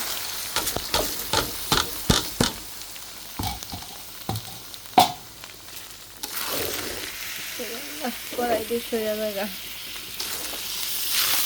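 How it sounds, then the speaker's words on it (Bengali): Polao rice frying in a wok over a gas stove, with repeated sharp scrapes and stirs over a continuous sizzle while a person talks briefly. "এবার পোলাও চালটা একটু সুন্দর মতো ভাজা নিতে হবে"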